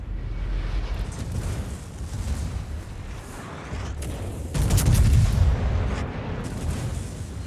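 Heavy warship main-gun salvos boom out in a World of Warships naval battle, with a rumbling barrage building and a louder cluster of blasts midway through.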